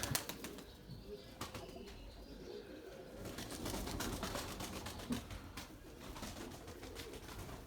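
Pigeons in a loft coo softly and flap their wings in short bursts, close by and faint, with no talk.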